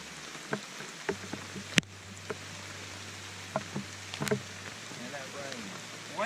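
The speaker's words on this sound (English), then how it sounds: "And that rain playing with me today." Steady rain patters on a surface outdoors during a rainy-day demo, a continuous wash of drops with a few sharper taps and clicks scattered through it, plus a low steady hum underneath.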